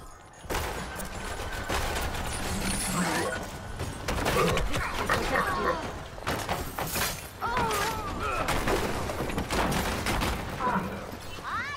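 Gunfire and impact effects in Overwatch: bursts of shots, shattering and thuds scattered through the clip amid busy game sounds, with a voice speaking over parts of it.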